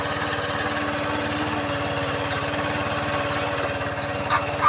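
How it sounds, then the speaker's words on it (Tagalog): Easy Ride 150 motorcycle engine running after carburetor repair, a steady close rapid chugging putter at fairly even pitch, with a brief bump in level near the end. "Ayan, so nare-rev na rin siya"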